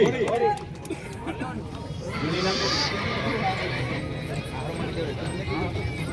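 A horse whinnies at a village fair horse race, with hoofbeats and crowd chatter around it and an announcer's voice over the commotion.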